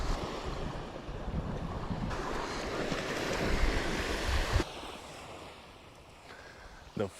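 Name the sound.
ocean waves and wind on a beach while fishing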